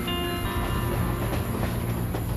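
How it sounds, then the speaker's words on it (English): A nearby train rumbles past with a continuous, loud roar and a faint high metallic whine above the rolling of the wheels. "There's a train really close to there that actually goes to California."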